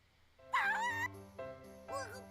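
A dog in a visual novel game gives a few short, close whimpering yelps and whines in three quick bursts over a quiet background.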